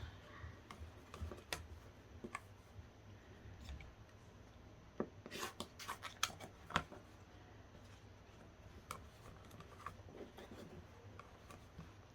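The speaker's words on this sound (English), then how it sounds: "I have my rotary right here, so I'm going to give it a quick trim" A series of quiet, irregular clicks and scrapes as a rotary cutter blade rolls and presses through quilting fabric, trimming it, with small sharp taps scattered throughout.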